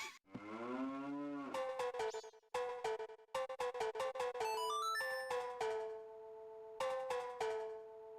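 A cow moos loudly in The Legend of Zelda: Majora's Mask randomizer, one long descending bellow, then a string of bright chiming notes and a rising jingle as an item is awarded, with no talk.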